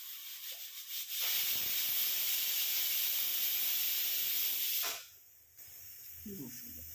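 Steady, loud steam hiss rising from a stovetop pot of papaya cooking for thoran, lasting several seconds before cutting off abruptly, followed by quieter kitchen background.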